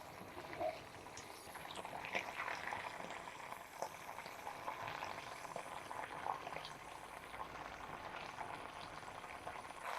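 Sugar syrup boils in a pan on the stove, a soft, steady bubbling and faint crackle that runs continuously at low volume throughout.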